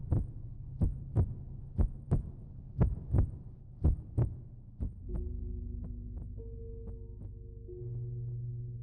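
Slow, steady heartbeat thumps, about a dozen deep paired beats at an even pace, fading into a low droning hum that swells and holds underneath.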